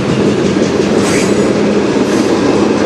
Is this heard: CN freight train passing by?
yes